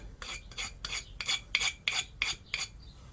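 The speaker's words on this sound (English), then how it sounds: "So, actually, I've got a file. I could use a file." A hand file rasps along the sides of a car part being chamfered during a Skoda Superb door change, eight steady back-and-forth strokes in an even rhythm, close and fairly loud with no talk.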